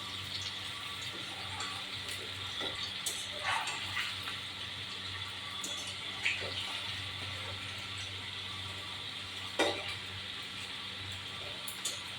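Pakoras fry in hot oil, giving a low, even bubbling hiss over a constant background hum, with a few faint clinks scattered through.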